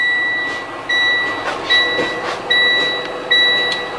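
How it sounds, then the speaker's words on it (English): Check valves on a 2020 Entegra Aspire 44B RV coach chirp as a series of repeated high, thin beep-like tones, about five in a row, over a steady background rumble. "You hear our check valves."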